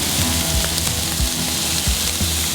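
Fish hits a hot pan and sizzles loudly and close, a dense frying hiss with low rhythmic thumps running under it across the short stretch.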